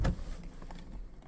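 A Toyota Hilux door opens with a brief thunk of the latch release followed by soft, close rustling and clicks, quiet and over in about a second.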